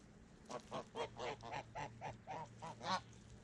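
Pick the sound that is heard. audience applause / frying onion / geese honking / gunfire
geese honking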